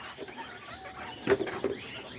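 A young rooster clucks a few times up close in a backyard pen, two short bursts near the middle over a faint steady background.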